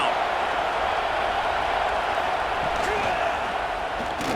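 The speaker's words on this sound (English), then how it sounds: "Decibels rising as the crowd gets behind this defense on 3rd down" Football stadium crowd at an SFL game between the Sea Dragons and Guardians, roaring steadily on third down, a dense sustained wall of noise with a commentator talking over it.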